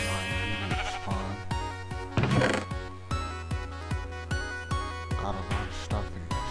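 Repeated sheep bleats from a Minecraft game, a series of loud nasal cries recurring every half second or so, mixed with soft thunks and game background music.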